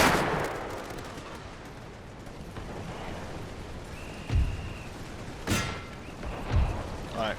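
Machine gun fire in the First World War strategy game The Great War 6.0: scattered sharp bursts and booming shots over a low battle rumble, spaced about a second apart in the latter half.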